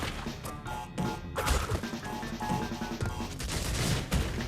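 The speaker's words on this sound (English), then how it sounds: "I could feel the heat of the explosion behind me" Explosion and crashing from the video game Crash Bandicoot, a loud, dense burst of smashing and booming debris that rumbles on continuously for several seconds.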